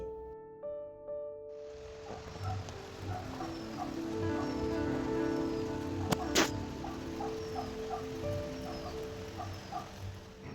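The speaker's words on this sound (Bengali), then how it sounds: "আর এইদিকে দেখো বৃষ্টি হচ্ছে" Steady rain falls throughout, a soft diffuse patter with scattered drops, alongside a dog barking faintly in the distance and a few distant birds calling.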